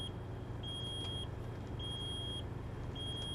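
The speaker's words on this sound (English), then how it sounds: "So that annoying beeping is your low air pressure warning indicator" A low air pressure warning in an American Truck Simulator truck beeps steadily, a thin high tone repeating roughly every second over a constant engine rumble.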